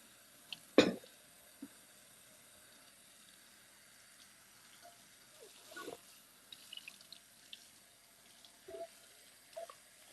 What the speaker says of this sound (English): You just kind of rinse it out, scrape off the nonsense off the bottom of the pan,